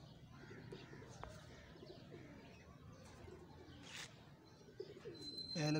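Pigeons coo softly in a loft of fancy breeding pigeons, low repeated throaty calls mixed with light rustling and a few faint chirps, fairly close but quiet, with no clear talking.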